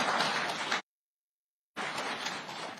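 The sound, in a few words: audience clapping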